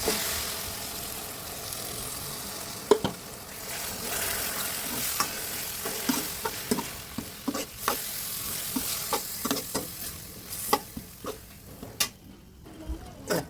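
Onion and masoor dal sizzle gently in a pan while being stirred, with repeated sharp scraping clicks from the utensil against the pan over a steady frying hiss.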